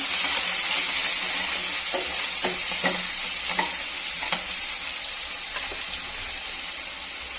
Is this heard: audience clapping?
no